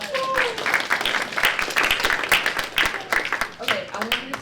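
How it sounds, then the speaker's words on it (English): Conference audience applauding with continuous mixed clapping through the room, while voices talk and cheer over and between the claps. "Give yourselves a round of applause."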